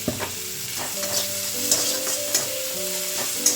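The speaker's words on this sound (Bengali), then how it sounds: "এবার মশলাটাকে কিন্তু ভালো করে ভাজতে হবে" Spices and tomato fry in a pan for a mustard-pickle fish dish, with a soft steady sizzle under repeated scraping stirs of a spatula, close and clear.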